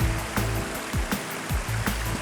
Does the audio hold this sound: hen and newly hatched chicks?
no